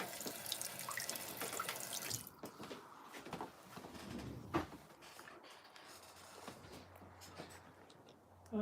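Water runs from a tap in a loud, hissing stream for about two seconds, then stops, leaving quiet drips and small handling clatters in the near background.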